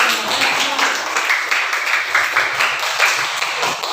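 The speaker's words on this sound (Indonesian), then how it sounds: "Ya, berikan tepuk tangan untuk." A classroom group applauds a team that has just presented, a burst of scattered hand clapping that rises and falls in uneven waves, fairly loud and close, with a little voice mixed in.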